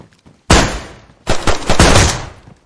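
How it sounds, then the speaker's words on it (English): In the video game DayZ, a grenade blast and gunfire burst out in two loud, close, harsh waves, the second a rapid cluster of sharp reports. "I hit a grenade on his vest and he exploded."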